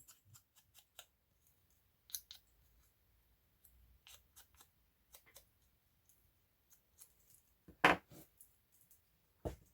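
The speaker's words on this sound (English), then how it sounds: "I'm just going to trim that off." Scissors make a series of sparse, sharp little snips and clicks as they trim the edge of a faux leather label, close and quiet against near silence, with one louder cut near the end.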